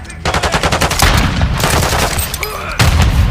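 Rapid bursts of gunfire from the video game Modern Warfare 2, with loud, closely spaced shots in a fast rhythm broken by short pauses and a heavier blast near the end.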